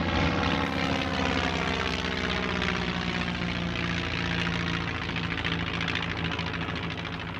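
A vintage propeller airplane performs aerobatics, its engine droning steadily with a rising and falling pitch as it climbs and turns, heard continuously and fairly close with no talking.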